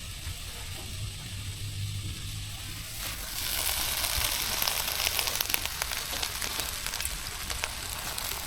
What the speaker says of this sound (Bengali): কচুর পাতাগুলো সিদ্ধ করে দিতে হবে সিদ্ধ করার জন্য কড়াইতে দিয়ে দেবো